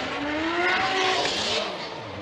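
Formula Drift cars sliding through a competition course, a Dodge Viper on Achilles radials among them, tires squealing and engines roaring loud and close in one continuous sweep with a rising pitched whine.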